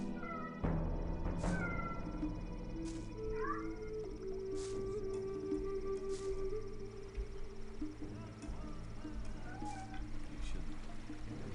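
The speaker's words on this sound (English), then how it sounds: "Cat noises." Cat meowing in the video game Gothic 1, several drawn-out meows over a steady game ambience with faint chirping, no talk.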